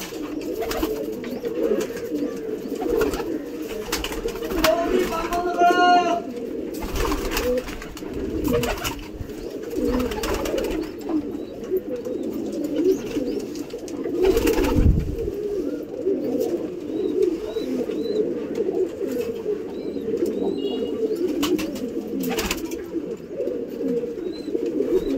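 Adult pigeons at a pigeon sanctuary coo continuously in low, throaty rolling murmurs, several birds overlapping close by, with a few brief higher calls and rustles mixed in.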